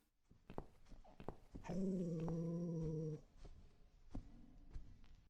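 A small dog in The Cat Lady game gives a sustained, low, snarling growl of about a second and a half, with scattered clicks and faint bumps around it and no speech.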